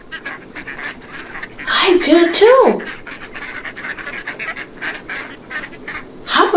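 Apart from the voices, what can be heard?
duck quacking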